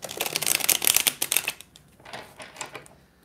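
A deck of tarot-style reading cards is shuffled in a dense, rapid riffle of crisp flicks lasting over a second, then a few softer, scattered card slides trail off.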